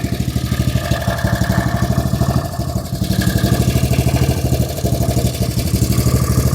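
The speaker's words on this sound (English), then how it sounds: "I got the idle speed way down." A Honda side-by-side engine idles at a lowered idle speed, loud and close, with an even, rapid chugging pulse that holds steady throughout.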